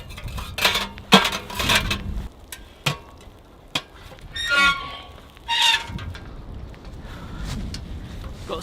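Camping stove and frying pan being handled outdoors in snow: scattered metallic clanks, clinks and rattles come in short bursts at close range over a low windy background, with no talking.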